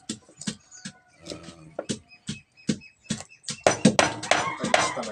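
A knife slices galangal (lingkuas) thinly on a cutting board, giving a series of sharp, close chopping taps in an irregular rhythm that speed up and grow denser toward the end, with occasional soft voice in the background.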